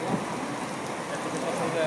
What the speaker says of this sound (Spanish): Queríamos lluvia, aquí tenemos lluvia